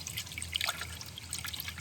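Coolant poured into a Bentley Arnage, a quart-sized pour making a steady liquid trickle and dribble close by, with faint splashy drips riding over a low background hum, no talking.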